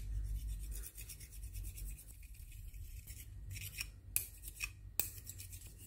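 The flat side of a pair of scissors scrapes across a brass spoon, a soft rasping rub that runs steadily and then breaks into a few sharper strokes and clicks near the end, close and quiet.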